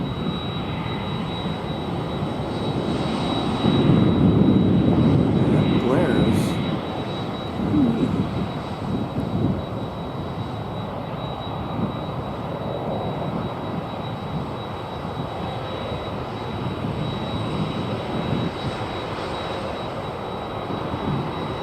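Cargo jet departing DFW Airport bound for Windsor Locks, a broad engine roar swelling loud early on and then settling into a steady distant rumble that carries on without any talking.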